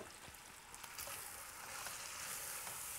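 Chopped onion sizzling in a pan as the base for a lamb tagine with prunes, a steady soft crackle and hiss heard close up, fairly quiet, with no talking.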